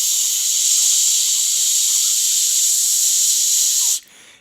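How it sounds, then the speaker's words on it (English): Steady, loud hiss of steam escaping from the pressure release valve of a Ninja Foodi pressure cooker while cooking BBQ ribs, continuous for about four seconds before cutting off abruptly. "here I am turning the valve, so we are releasing all pressure"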